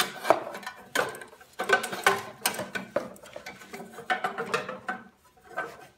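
A plastic carburetor cover is lifted off a Toro snow thrower, giving a string of close, sharp clicks, scrapes and knocks that come in irregular bursts.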